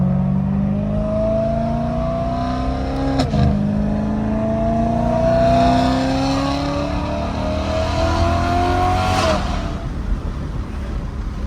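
A loud BMW M3 with the S65 engine revs hard at a Type R car meet, its pitch climbing in long rising pulls that end in a sharp burst, close by and dominating the scene.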